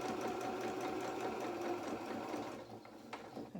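A sewing machine stitches around the edge of a fabric baby bib, a steady close mechanical whir and rattle that slows slightly and stops near the end with a few small clicks.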